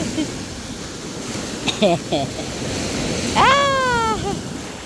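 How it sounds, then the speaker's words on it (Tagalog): Big sea waves roll onto a natural beach near Mataró, outside Barcelona, a steady rushing roar beneath a few short, high calls and voices. "Ang lalaki ng alon."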